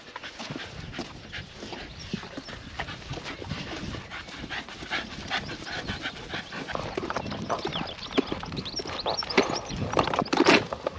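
A dog pants steadily and close by on an evening walk in the Scottish Highlands, with footsteps and scuffling through the walk and a few louder bursts near the end.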